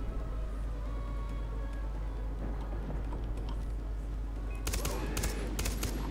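SMG fire in Far Cry 3: faint scattered shots over a steady low hum, then a louder, sharper burst of rapid rounds near the end.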